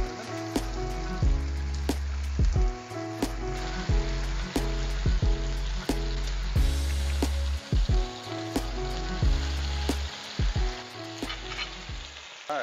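Chicken feta spinach sausages and chopped onions fry in a pan with a loud continuous sizzle, broken by frequent sharp clacks and scrapes as they are stirred and turned.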